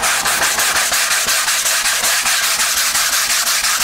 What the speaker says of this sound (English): You keep your sandpaper moving.